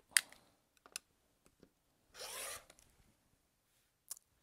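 A rotary cutter slicing through a quilting fabric square along a cutting guide, one short close rasping pass in the middle amid faint clicks and taps in an otherwise quiet room.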